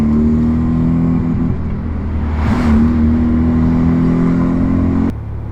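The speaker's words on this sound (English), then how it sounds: "That's me touching the accelerator ever so slightly." A Mazda RX7 engine holds a loud, steady hum that swells briefly as the accelerator is touched ever so slightly, then cuts to a lower drone near the end.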